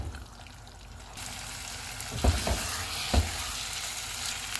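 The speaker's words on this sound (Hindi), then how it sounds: "अब हम चूल्हे को मीडियम कर देते हैं और इसको भून लेते हैं।" Beef for Bihari gosht sizzles and fries over medium heat, with a steady hiss broken by a few soft thuds of stirring in the pot, close by and with no talking.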